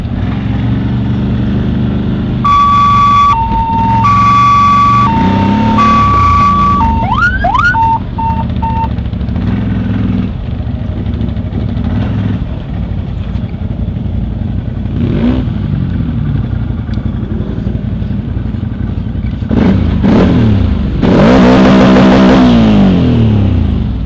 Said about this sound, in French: Accélère, Raphaël, accélère.